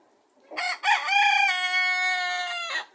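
A young rooster among chickens crows close by, one drawn-out call with a rough start and a long sustained tone, with no other sounds around it.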